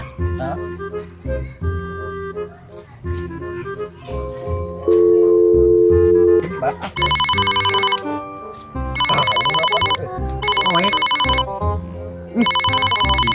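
A telephone rings in repeated bursts of bright electronic tone through the second half, after a stretch of mixed, musical-sounding noise at the start.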